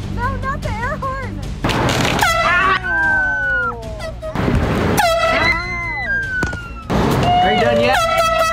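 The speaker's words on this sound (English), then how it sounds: "No, not the air horn!" Loud, piercing air horn blasts repeat several times with bending, warbling tones, mixed with shouting voices between the blasts.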